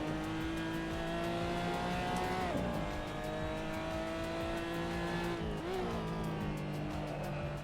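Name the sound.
race car engine revving in a racing simulator video game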